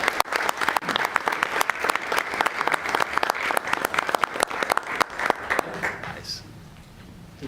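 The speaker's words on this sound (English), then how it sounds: "One more round of applause." Audience applause at a public commission meeting, a dense, steady run of many hands clapping for about six seconds before tapering off near the end.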